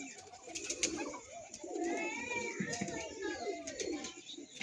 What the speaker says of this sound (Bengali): এদিকে বন্ধুরা পায়রাটা এসেছে